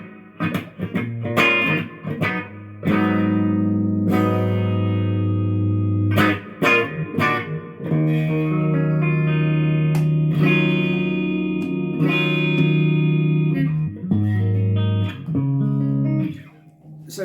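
Rapier 33 electric guitar played through a small battery-operated amplifier, with chords and single-note runs in shifting tones, some distorted and echoing, steady and close with brief pauses between phrases.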